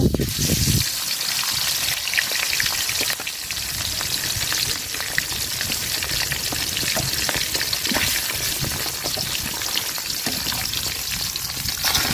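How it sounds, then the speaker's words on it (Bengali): Large small fish fry in oil in a pot, a loud, continuous crackling sizzle that holds steady throughout, with a brief clatter at the start and no talk over it. "তো আগে বড় সাইজের মাছ ভাজা নিব।"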